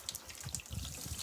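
Tap water runs quietly and steadily into a sink as the heat is turned up, with soft trickling and splashing and no talking.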